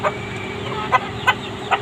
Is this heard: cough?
no